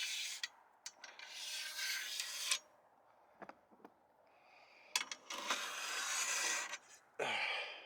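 Metal carriage bolts slide and scrape along the channel of a CBI offroad cab rack in a few close, rasping strokes separated by brief pauses and small clicks.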